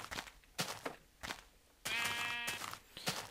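Minecraft sheep bleating: one clear, wavering bleat in the middle, surrounded by short thuds of in-game footsteps or movement, fairly quiet overall.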